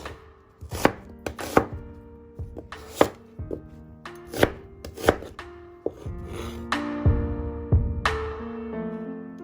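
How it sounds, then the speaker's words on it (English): An onion diced with a knife on a board for Goan beef roast, sharp close chops in an irregular rhythm, a dozen or so distinct hits, loud and alone with no talk. "Cut the onion in dices."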